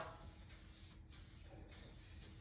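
Kustom Canz spray paint hissing from an aerosol can onto a hard-tail chopper frame: a close, steady spray with two brief pauses as the nozzle is released, no talking.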